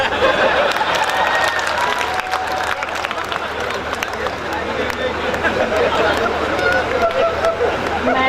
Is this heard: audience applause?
yes